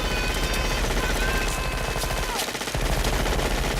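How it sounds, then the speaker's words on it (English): Rapid machine gun fire in Doom blasts nonstop, a loud, dense stream of shots with only a brief dip near the end before the barrage resumes. "Sometimes people just want to grab a machine gun and let loose on a massive horde of enemies."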